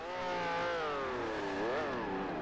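Engines of several race cars in a sim racing game roaring up the main straight, a steady layered whine of overlapping engine notes rising and shifting pitch together, loud and close with no talk over it.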